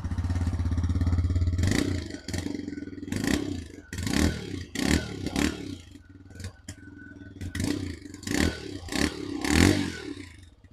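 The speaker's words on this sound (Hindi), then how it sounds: "अभी जस्ट आपने इस गाड़ी के एग्जॉस्ट साउंड को सुना" TVS Raider 125cc motorcycle, 2024 Super Squad Edition, idling close by with a low steady exhaust hum, then a series of sharp throttle blips and revs rising and falling repeatedly.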